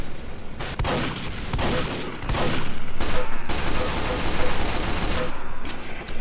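Gunfire in the Team Fortress 2 video game: rapid bursts and repeated shots crack over a dense, loud battle din, continuous throughout with layered explosions and weapon fire.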